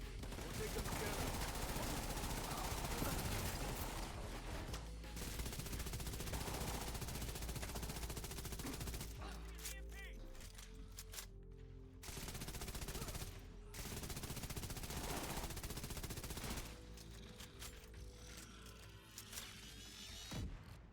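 Light machine gun fire in The Division 2, long rapid bursts of automatic shots broken by brief pauses, loud and close, with voices talking over parts of the firing.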